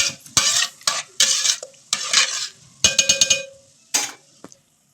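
A spoon stirs mashed vegetables into a pan of cooked pav bhaji masala, with repeated scraping, clinking strokes in short bursts and a light sizzle underneath, close and fairly loud.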